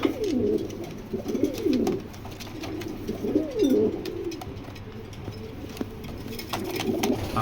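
Racing pigeons coo close by in a series of throaty, rolling phrases that rise and fall, repeating every second or so with short pauses between them.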